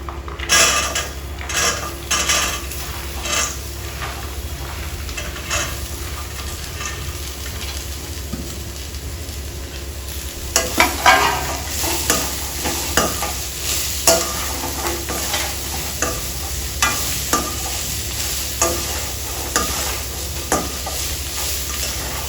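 Sprouts tipped into a hot pan and stir-fried as a snack: a steady close sizzle under repeated metal spatula scrapes and clinks against the pan, growing busier and more rhythmic halfway through, with no talk.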